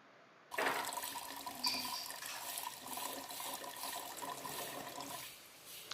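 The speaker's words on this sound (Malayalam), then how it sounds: "ഇപ്പം ഈ ഇതിലുള്ള മാങ്ങയിൽ നിന്ന് ഊറി വന്നിരിക്കുന്ന വെള്ളം മുഴുവൻ ഞാനിവിടെ കുപ്പിയിലേക്ക് മാറ്റുകയാണ്." Brine drained from tender pickled baby mangoes pours steadily into a bottle, a continuous close splashing trickle that starts suddenly and runs without pause until it eases near the end.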